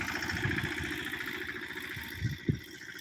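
A heavy tractor engine idles with a steady, low chugging rumble, broken by a couple of dull thumps near the end.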